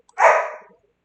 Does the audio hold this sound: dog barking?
yes